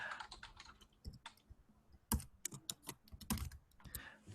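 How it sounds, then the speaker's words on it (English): Quick bursts of keystrokes on a computer keyboard as an email address is typed, irregular clusters of clicks with short pauses, close and clear with no talking. "If I can type it correctly."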